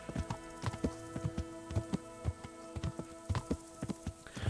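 Horse hooves clip-clop at a steady walking rhythm in the medieval game Kingdom Come: Deliverance, each footfall a sharp, fairly close knock over a faint humming game ambience, with no voices.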